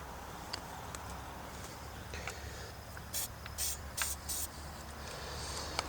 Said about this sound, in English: we're going to spray that with some battery terminal protector.